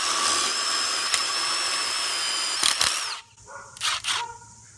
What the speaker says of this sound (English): victim number 2 is a 1/4-inch impact driver with the new Bosch bits